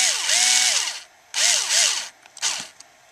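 Cordless power drill driving screws into a Zama C3M carburetor for a Makita chainsaw, three short whirring bursts that wind up and stop, close and fairly loud with brief pauses between, no talking.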